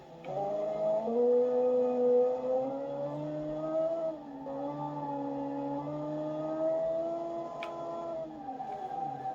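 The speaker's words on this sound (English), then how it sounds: "the high rev in the engine just makes it sound fast" A 1972 muscle car engine revs high and hard, a sustained climbing howl that dips briefly and then surges again, heard at moderate distance with no talking.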